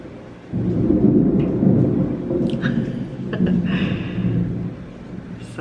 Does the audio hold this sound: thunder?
yes